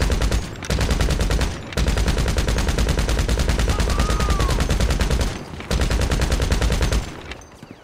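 Rapid, dense gunfire from a GTA video game, shooting in first person, with a shotgun drawn, rattling loudly and nearly continuously with two short pauses, then tapering off at the end.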